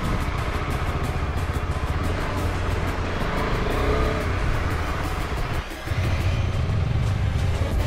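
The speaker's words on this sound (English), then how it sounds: "Now Nelly is riding" KTM ADV250 adventure motorcycle ridden on a dirt park track, a continuous loud engine drone with rapid pulsing, nearby and steady, dipping briefly before picking back up.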